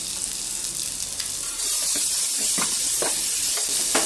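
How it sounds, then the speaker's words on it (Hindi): Chopped onion hits a hot pan along with cumin, grated ginger and garlic, and a loud sizzle bursts up, then carries on as a steady frying hiss with soft stirring scrapes. "और डालेंगे कटा हुआ प्याज।"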